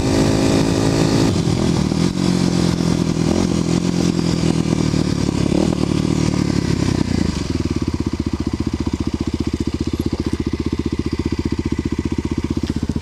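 A Kawasaki KLX250SF motorcycle ridden on a gravel-strewn paved road, its engine loud and close with a throbbing, clattery note that rises as it pulls away, then settles into a steady, rapid pulsing beat.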